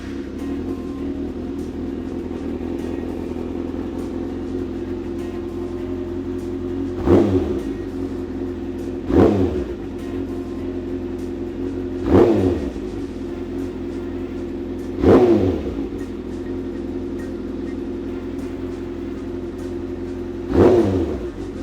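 A 2019 Kawasaki Ninja ZX-6R sport motorcycle with an M4 exhaust idles steadily up close, with five quick blips of the throttle spaced a few seconds apart.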